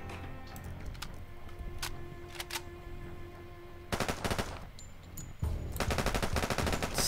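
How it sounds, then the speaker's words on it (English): Gunfire in the tactical shooter Door Kickers 2: scattered single shots first, then dense bursts of automatic fire in two long volleys, loud and sharp over a low steady game ambience, with no talking. "Instead, we do have a lot of gunfire."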